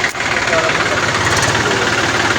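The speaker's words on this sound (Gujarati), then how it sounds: "અહીંયા પણ મહિન્દ્રા ટ્રેક્ટર છે." A Mahindra tractor engine idling close by outdoors, a steady, loud, even rumble throughout.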